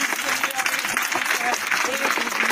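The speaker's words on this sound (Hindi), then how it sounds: "जोरदार ताली बजाएंगे क्रिस के" A studio audience on the quiz show KBC applauds with brisk, dense clapping, while a host's voice talks over the clapping throughout.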